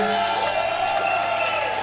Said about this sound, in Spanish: Un aplauso bien fuerte